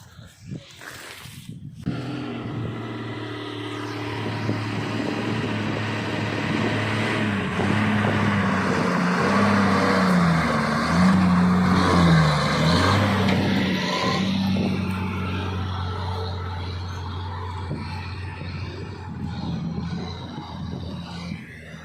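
A vehicle loaded with onions drives along on the route from Mahuva to Jesar, its engine a steady low droning hum with occasional rattles, running throughout while people talk over it.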